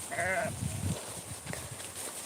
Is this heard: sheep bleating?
yes